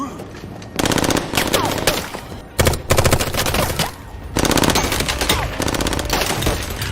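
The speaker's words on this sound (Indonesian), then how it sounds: "di saat itu ia berhasil menemukan keberadaan Billy dan aksi baku tembak pun terjadi." Rapid automatic gunfire fills a film shootout, loud bursts of machine-gun fire separated by brief pauses, with clattering impacts between volleys.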